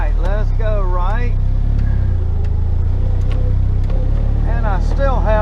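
A Polaris Slingshot three-wheeler drives on a test ride with a loud, steady engine drone and wind, while people talk over it.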